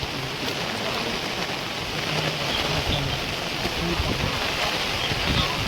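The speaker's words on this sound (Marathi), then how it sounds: "एवढा मोठा पाऊस आहे की मागे एकोणतीस तारखेला झाला त्याच्यापेक्षाही मोठा पाऊस सुरू आहे" Heavy rain pours down in a dense, constant roar, loud and close, with no break for the whole stretch, in Kandhar taluka, Maharashtra.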